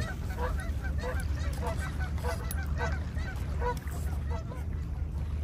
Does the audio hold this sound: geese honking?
yes